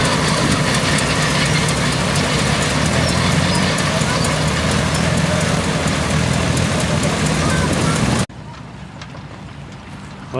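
A pair of big draft horses clip-clop steadily while pulling a threshing machine at a threshing bee, loud and continuous, mixed with engine rumble and machinery noise before an abrupt cut to quieter sound.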